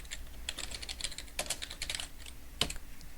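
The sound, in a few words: typing track titles on a computer keyboard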